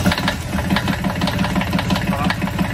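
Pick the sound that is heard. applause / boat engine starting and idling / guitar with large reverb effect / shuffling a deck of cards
boat engine starting and idling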